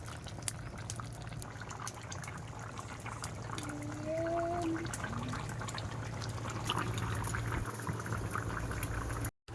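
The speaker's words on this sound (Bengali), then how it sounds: "ঝোলটাও কিন্তু টবক টবক করে ফুটছে" A curry broth with large katla fish pieces and potatoes boils in a pot, with a continuous close bubbling and gurgling that carries on steadily before cutting off at the end.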